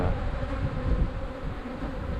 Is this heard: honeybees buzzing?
yes